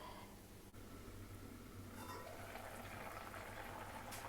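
Fish with shredded coconut simmers in an uncovered clay pot, a faint, steady bubbling and soft sizzle close up, continuous and quiet with no talk.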